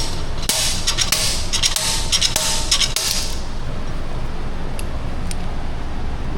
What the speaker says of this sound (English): So I've got a bearing puller device on the end of a slide hammer